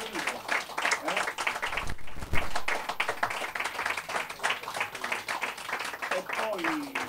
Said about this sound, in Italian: Un applauso a Gigino